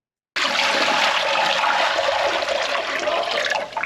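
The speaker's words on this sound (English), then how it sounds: "I'm going to put some water down these sinks and see if it comes through." Water poured down hospital sinks being tested after a blockage starts suddenly and flows as a loud steady rushing gush, close by, continuing without pause.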